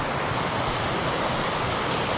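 A running creek on a mountain trail, its water rushing in a steady, broad wash that sounds fairly close, with no voices over it.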